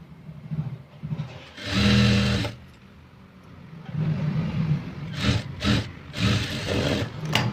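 An edging stitch goes along a princess-cut blouse on a sewing machine, heard as a short whirring run followed by a longer stretch of steady stitching, broken by brief pauses.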